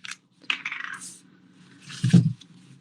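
A bottle of liquid glue being shaken during a stamping craft session: a short burst of rattling and sloshing, close and fairly loud, followed by a thud as it is set down, with no talking.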